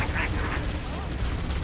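Sustained rapid gunfire from the Halo video game, a dense continuous barrage with heavy low rumble that stays loud throughout, with game voices mixed in.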